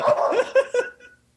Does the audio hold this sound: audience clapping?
no